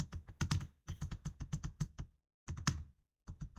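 Crisp keystrokes on a computer keyboard while entering a formula in an Excel workbook, clattering in quick clusters separated by short silent pauses, close and alone.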